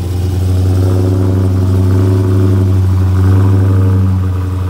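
A Porsche 911 (991) Turbo S engine runs close by in an open parking area: a deep, steady idle hum with a gentle swell in revs partway through, alone with no voices.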